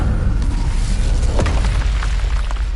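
Incendio fire spell explosion from Hogwarts Legacy combat: a loud, deep rumbling boom with a sustained roar and scattered crackles, without talk.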